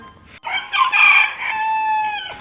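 A rooster perched on a shed roof lets out one loud, close cock-a-doodle-doo, rising sharply and then holding a long drawn-out final note, with nothing else heard.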